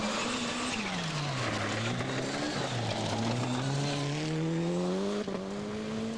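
Mitsubishi rally car at full throttle on a Yorkshire forest stage during the 1988 Cartel Rally, heard on board: a loud, continuous engine note rising and falling through the gears, with a brief dip near the end and no talking.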